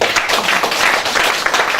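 Audience clapping in a village hall at a sub-district competition in Dumai, a brief, dense burst of applause held close and loud for under two seconds.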